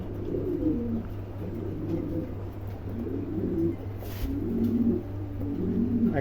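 Show-quality pigeons kept for sale coo in repeated low, throaty phrases close by, steady and rhythmic, with a brief noise burst partway through.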